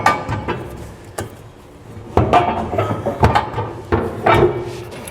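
A gooseneck trailer hitch center section is forced into place under a 2012 Ram 2500 truck, giving irregular metallic knocks, scrapes and thuds in uneven bursts, close and fairly loud, with no talking.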